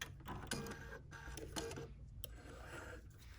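A freshly cleaned BERNINA sewing machine stitches in a soft mechanical run of quick, repeating clicks and whirs, faint and close with no voices.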